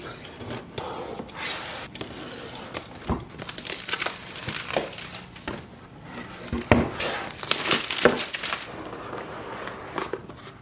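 Packaging for a Microsoft Surface Laptop Go in ice blue crinkles and rustles close up, with steady handling of cardboard and plastic wrap in bursts of rubbing and scraping, no talking.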